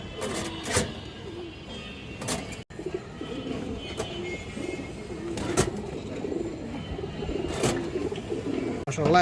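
Pigeons coo and flutter at a pigeon farm where big birds are offered for sale, soft low calls repeating close by beneath a steady background hum, with someone speaking over them throughout.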